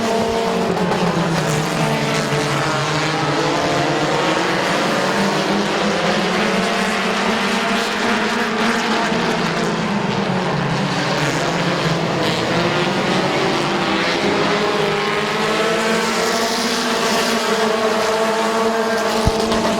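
Race cars roar around Midvale Speedway, a dense, continuous drone of several engines near and far that rises and falls as they lap the track.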